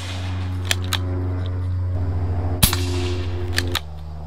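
An air gun fires at targets on an outdoor range, giving one sharp, loud crack over a steady low hum, with a few faint clicks around it.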